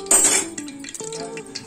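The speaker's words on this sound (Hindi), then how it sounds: "अब इस चम्मच से 2 चम्मच तेल डाल देंगे।" A metal spoon clinks against a heated pressure cooker while mustard oil is added for mutton korma, a bright sharp clang followed by a few lighter scrapes and taps, close and clear with no talk.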